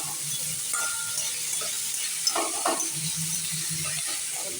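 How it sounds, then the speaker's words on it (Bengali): Steady sizzling of cabbage frying in oil over a low gas flame, with occasional stirring scrapes and a faint clink, close by and continuous throughout. "প্রথম বাঁধাকপিটা আমি ভাজা করে নিচ্ছি"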